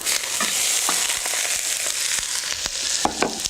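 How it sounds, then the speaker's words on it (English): Onions drop into a hot pan with plenty of olive oil and saute with a loud, continuous close sizzle, dotted with small crackles and pops. "So you have a hot pan, a good amount of olive oil, and all of our onions go in."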